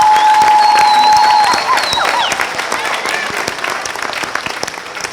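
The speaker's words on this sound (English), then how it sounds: "give a round of applause to the graduates" Graduates at a spring graduation ceremony receive loud audience applause, with a brief whistle at the start; the clapping is strong at first, then gradually thins and fades.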